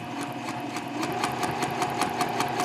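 A sewing machine stitches a messenger bag in a rapid, even mechanical rhythm of needle strokes, close and steady throughout and slightly faster toward the end, with no voices.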